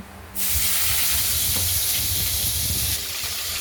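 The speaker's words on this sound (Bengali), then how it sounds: "মশলাটা ভাজা হয়ে গেছে" A sudden loud sizzle erupts and holds steady, a hissing fry that eases slightly toward the end, as garlic and nigella seeds fry in a wok.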